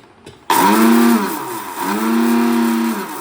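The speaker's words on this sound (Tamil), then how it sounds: "காஞ்ச மிளகாய், ஜீரகம், பெருஞ்சீரகம் எல்லாம் போட்டு பல்ஸில் போட்டு ஒரு அடி அடித்தாச்சு" A kitchen mixer grinder pulses dried red chillies, cumin and fennel seeds, starting with a sudden loud whirring motor burst that dips briefly and then surges again, steady and close with no talking.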